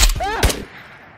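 Gunfire in the game Ghosts of Tabor: two sharp, loud shots in quick succession ring out close by, with a brief ringing tail that dies away within a second.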